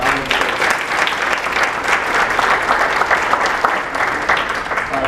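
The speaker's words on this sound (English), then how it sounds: "So one more big round of applause, please." Strong, sustained audience applause at a school chemical-management presentation, many hands clapping evenly throughout.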